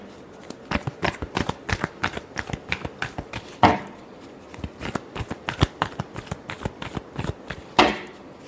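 Tarot cards are shuffled in a quick, steady riffle of crisp, close paper snaps and flutters, with two louder bridging slaps near the middle and end.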